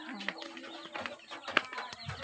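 A chicken clucks in short, scattered bursts nearby, fairly soft against a quiet household background.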